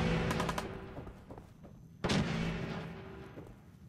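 Gunfire in the video game Fallout 4: a quick burst of several loud shots near the start, then one heavy boom around the midpoint, each decaying under a steady low game rumble.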